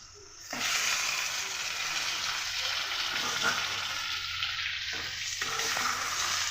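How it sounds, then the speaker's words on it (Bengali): Fried chicken sizzles loudly in a pan with fried onions, starting abruptly and holding a steady, dense hiss with soft stirring sounds underneath. "আমি এবারে ভাজা চিকেন দিয়ে দেবো"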